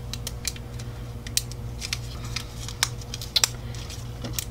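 Scissors snipping into the wrapping of an LOL Surprise ball, a quick run of sharp, close clicks and crinkly cuts at an irregular pace over a low hum.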